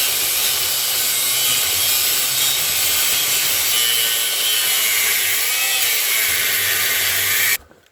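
An angle grinder cuts diagonally through the steel ribs of a mower deck on an offroad mud mower build, a loud continuous abrasive whine and grinding that holds steady for nearly eight seconds before stopping abruptly.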